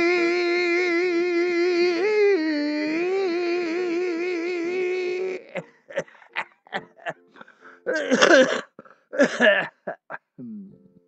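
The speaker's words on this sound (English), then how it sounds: "No COVID, just smoker's cough." A long sustained wheezing, moaning exhale gives way to a run of harsh, rattling smoker's coughs in uneven bursts, close and loud.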